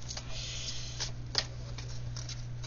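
Oracle cards being shuffled and drawn make soft, scattered ticks and papery flicks at close range, quiet over a low steady hum.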